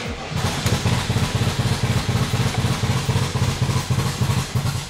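Air-cooled VW engine running with a newly installed SVDA distributor and electronic ignition, poorly timed; a steady, loud, lumpy idle with rhythmic thumping pulses, close to the microphone, no talk.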